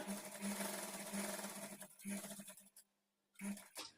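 A sewing machine stitches a waistband strip onto blouse fabric at a half-inch margin, running in short close bursts with brief pauses, fairly quiet, with a faint background voice near the end.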